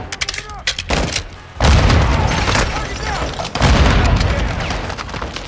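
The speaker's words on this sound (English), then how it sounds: "That's a grenade." In Call of Duty: Modern Warfare II, a grenade goes off with heavy booms amid rattling gunfire, loud and close, in a chaotic prison-break firefight.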